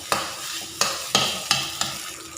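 Egg fried rice being stir-fried in a pan while the egg crisps, with repeated sharp scrapes and tosses of the spatula over a steady sizzle, about five strokes in a loose rhythm, close and clear.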